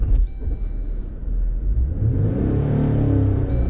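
A manual car's engine revs up steadily as the clutch is let out and gas is applied, a loud, close rumble that builds and holds through the end with no talking.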